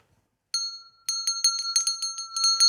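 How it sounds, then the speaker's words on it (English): A small bell rings once, pauses, then rings in a quick run of bright, repeated dings, close and clear against silence. "is ringing this bell each day"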